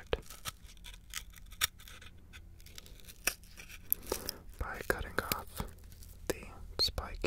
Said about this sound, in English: It's an X-Acto knife. It's very, very sharp.